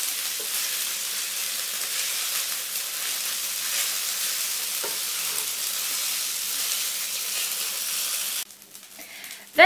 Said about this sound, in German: Und nun müssen die Nudeln ebenfalls wie das Fleisch unter ständigem Rühren gut angebraten werden.